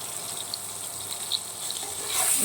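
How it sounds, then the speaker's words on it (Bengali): Constant soft sizzling of potatoes frying in oil, with faint crackles and a slight rise in hiss toward the end. "আলুগুলো হচ্ছে ভেজে নেবো,"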